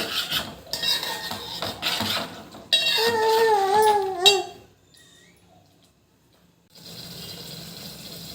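Rajma masala curry is stirred in a pan on medium flame, with close scraping and rasping strokes against the pan in bursts, then a quiet pause before softer bubbling and stirring resume.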